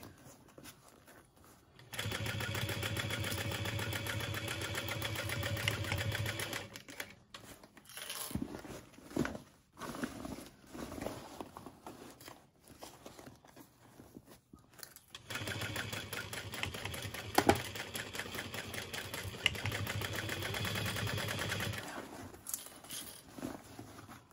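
A sewing machine stitches a handbag in two long runs of steady, rapid mechanical whirring, separated by a stretch of quieter handling and clicks, close and fairly quiet.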